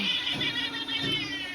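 A cat meows loudly and close, drawn-out whining calls repeated twice in quick succession.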